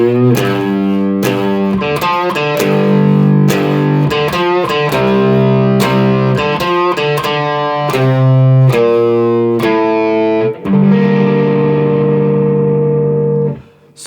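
An electric guitar in standard tuning plays the intro of a song with effects and light distortion. Loud, close picked notes and bent strings build to a sustained chord that rings out and fades.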